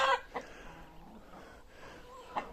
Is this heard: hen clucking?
yes